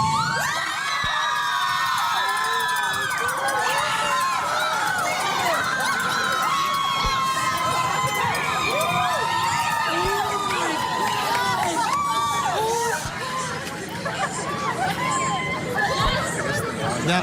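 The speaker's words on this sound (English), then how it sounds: "this was a huge crowd awaiting the rock star attorneys of Johnny Depp" A large crowd outside a courthouse cheering Johnny Depp's attorneys, a continuous loud roar of shouting, whooping and chatter with a few sharp bangs, sustained throughout.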